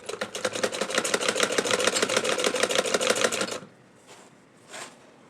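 A sewing machine stitches a baby frock in a rapid, even run of needle clatter for about three and a half seconds, then stops, followed by a couple of faint soft handling sounds.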